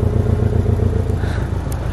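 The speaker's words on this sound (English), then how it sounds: "My cousin pulling in here in his Porsche." A Porsche car engine rumbles nearby at low speed, a steady throaty drone with some light clatter, as the car rolls slowly into a driveway.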